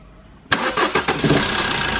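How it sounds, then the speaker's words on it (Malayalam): A Maruti Ertiga with worn engine mounts cranks briefly and fires up about halfway in, settling into a loud, close, slightly rough idle. "ഇപ്പോൾ നമ്മൾ വണ്ടി സ്റ്റാർട്ട് ചെയ്യാനായിട്ട് പോവാണ്."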